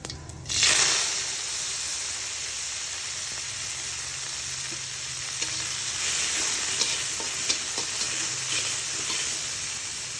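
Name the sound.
cumin frying in a pan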